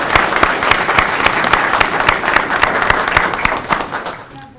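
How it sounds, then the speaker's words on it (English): An audience at a civil rights institute event in Albany gives a full round of applause, dense and steady crackling claps that hold strong before tapering off at the very end. "Let's give him a round of applause."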